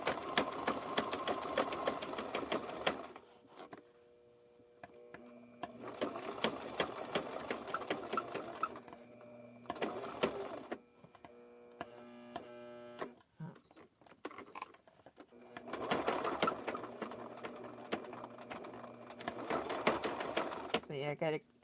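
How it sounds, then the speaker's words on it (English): A sewing machine runs in bursts of rapid mechanical stitching on rope, pausing and restarting several times, with quieter clicks and handling noises between runs. "I went from one sewing machine to another."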